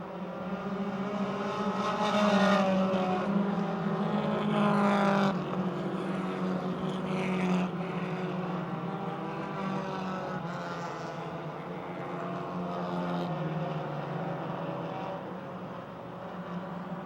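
Coca-Cola Super Compacts race cars circling Motordrome Speedway single file, their engines a continuous loud droning roar that swells and fades slightly as the pack passes, with no voices over it.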